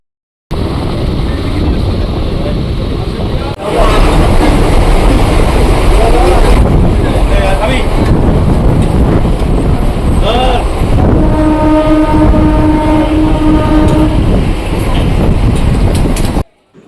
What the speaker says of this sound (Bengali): কথা বলতে বলতে আমাদের ট্রেন হাজির হয়ে গেল